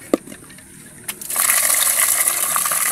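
Cold water gushes steadily over hot cooked food to cool it so it can be peeled, starting after a couple of small knocks and running loud and continuous to the end.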